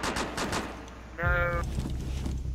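Gunfire in Rainbow Six Siege during a team deathmatch hostage round, a burst of rapid shots with a sharp tonal ring layered over it, close and loud, with voices chatting underneath.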